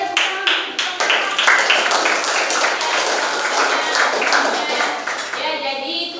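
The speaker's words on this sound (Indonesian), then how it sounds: "Oke, tepuk tangan." Classroom audience claps after a group chemistry presentation. The clapping is close and loud, with sharp individual claps at first, then a busy patter for several seconds. Voices are heard briefly near the end.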